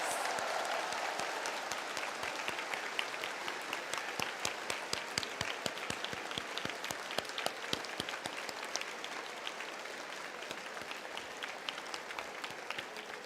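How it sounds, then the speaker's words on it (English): A ceremony audience applauds new lawyers at a bar passers' oath-taking, a dense, steady clapping that fills the hall from start to finish with no voices on top. "Let us give a warm round of applause to our new lawyers"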